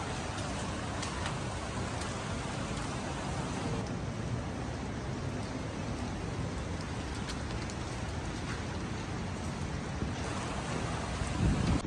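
Steady rain falls in Goa, a dense, even wash of drops on surfaces, close and unbroken throughout, with no talk over it.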